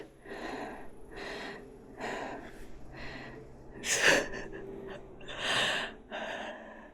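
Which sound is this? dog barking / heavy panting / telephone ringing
heavy panting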